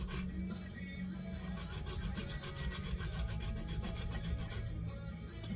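Small jeweler files rasp back and forth to clear a burr from a metal part on an air compressor, a steady close run of regular scraping strokes with no talking.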